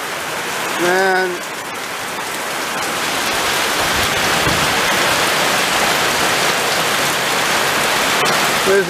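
Heavy tropical rain pours down in a loud, constant roar of drops striking surfaces, building slightly and then holding steady; a brief voice is heard near the start.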